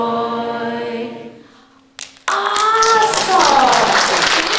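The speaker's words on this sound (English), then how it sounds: "Give yourself a hand." Audience clapping bursts in after a sustained singing voice fades at a talk event, a dense, loud wave of hand claps that fills the remaining seconds without pause.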